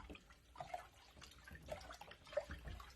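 Very hot water with Borax for a laundry soak, swirled by a plunger in a tub, giving soft, quiet sloshing and dripping in irregular bursts.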